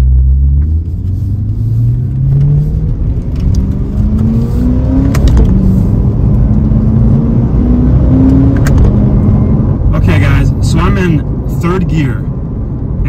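A C8 Corvette with the stock sport exhaust accelerates hard, its engine note climbing steadily through the revs as it pulls, with a loud, close rumble and sharp crackles and pops toward the end.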